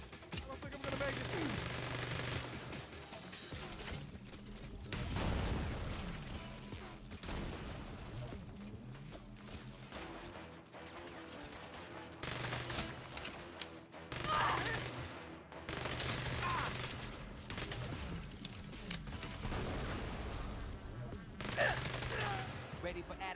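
Gunfire rattles through a shootout in the video game Saints Row, repeated bursts and single shots coming in loud waves over a continuous rumble of combat, with voices speaking now and then.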